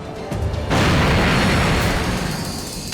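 A heavy explosion bursts after a brief pause, and its roaring boom sustains and slowly decays over the next couple of seconds.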